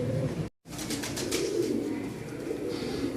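A fancy hobby pigeon cooing nearby, soft low repeated coos after a brief gap, fairly quiet with faint background hiss.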